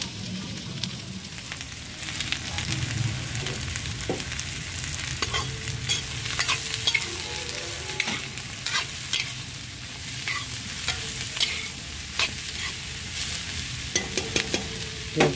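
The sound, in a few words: chopped onion frying in pan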